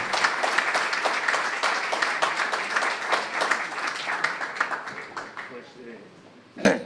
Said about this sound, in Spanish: os voy a pedir que les demos un aplauso de homenaje por aquella hazaña